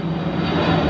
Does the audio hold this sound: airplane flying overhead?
yes